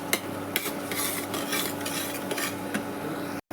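Padol masala is stirred in a pan while it cooks and dries, with a spoon scraping in repeated strokes over a soft, steady sizzle and no talking.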